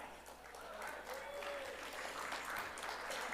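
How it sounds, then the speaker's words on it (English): An audience offers light, polite golf claps, a thin and fairly quiet scatter of hands that rises slightly over a few seconds, with a voice speaking over it. "That is at best a golf clap"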